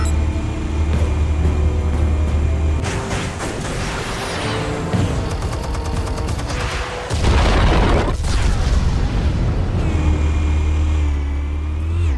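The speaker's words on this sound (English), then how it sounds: "Explosives armed. Fire when ready." Explosives blowing up in the Batman Telltale game, a deep booming blast and rumble that swells and crashes in the middle of a loud, continuous cinematic soundscape.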